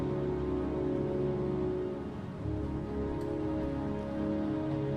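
Steady heavy rainfall drums across surfaces in a rain-soaked scene from the video game Heavy Rain, a dense continuous hiss that dips briefly midway, with no voices.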